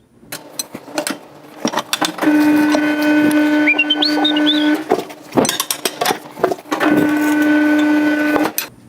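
Tire changer machine in a shop breaking the back-side tire bead, making two long, loud, steady mechanical whines, each several seconds long, set off by clicks, clanks and brief pneumatic bursts.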